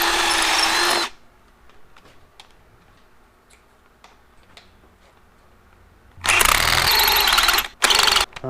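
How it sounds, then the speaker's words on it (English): A power drill whirs loudly for about a second while drilling a hole during a BMW E36 LS engine swap, then quiet ticking follows before the drill roars again in two bursts near the end, breaking the drill bit. "I broke another drill bit"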